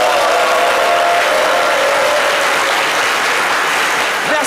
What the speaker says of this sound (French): ils vont s'applaudir bien fort